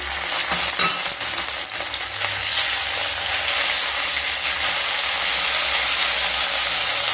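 Ground ginger and fennel paste fries in hot oil with asafoetida, producing a loud, dense, close sizzle with brief stirring clatter at first, then a steady hiss.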